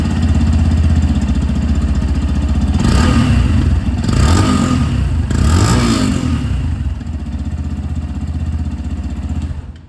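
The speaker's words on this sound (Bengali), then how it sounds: "এটা ছিল এখানে হাইব্রিডের আওয়াজ" Yamaha FZS Fi Hybrid motorcycle engine running loud and close with a steady idle, blipped through three sharp revs in the middle before settling back to idle.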